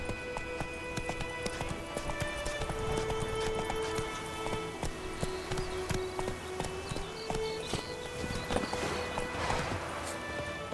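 Roach the horse's hooves in The Witcher 3 game, a steady rhythmic clip-clop of galloping carrying on for the whole stretch under ambient game music and environment sound, moderately close and even in level.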